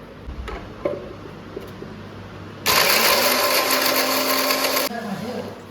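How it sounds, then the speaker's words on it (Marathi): Grated coconut is ground finely in a kitchen mixer grinder, which roars loudly for about two seconds in the middle, with quieter household noise and faint voices before and after. "चला मित्रांनो, खोबरा आहे आपला, एकदम बारीक करून घेऊ मस्त मिक्सर मध्ये."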